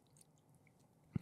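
A sudden crunchy bite into a peanut butter snack comes right at the end, after a near-silent stretch: one short, close crunch.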